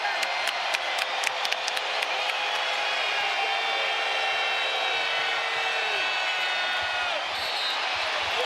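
A crowd in an NBA arena roars during a Boston Celtics versus Oklahoma City Thunder game, a steady wash of cheering that holds for several seconds. A few sharp squeaks and claps cut through near the start.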